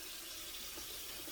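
Cold water runs steadily from a kitchen tap into a bath for thawing meat, a continuous hissing splash that stays even and close with no voices over it.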